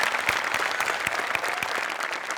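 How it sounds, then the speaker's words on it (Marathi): Audience applause from a Marathi comedy show on stage, with dense, steady clapping that stays loud and even throughout, free of talk. "तुझ्यासाठी जोरदार टाळ्या"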